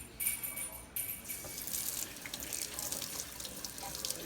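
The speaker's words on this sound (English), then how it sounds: "So now I'm going to go ahead and rinse it off." Tap water running steadily into a sink while hands are rinsed under it, a continuous close splashing hiss with no talking.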